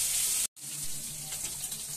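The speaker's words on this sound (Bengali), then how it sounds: "আর দেখুন মাছগুলো ভাজা প্রায় হয়েই গেছে" Fish frying in a pan at home until crisp and reddish, a steady close sizzle with a brief dropout near the start, then continuous crackle with no talking.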